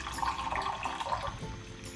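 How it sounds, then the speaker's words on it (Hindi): Water is poured from a cup into a pot of Memoni akni pulao holding softened meat and potatoes, a continuous close splashing gush lasting about two seconds. "पानी डालूँगा।"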